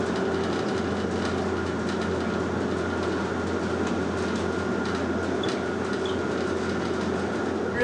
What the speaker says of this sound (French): c'est un train vraiment spécial dont la crémaillère est construite pour chasser la neige en même temps qu'elle ne s'accroche.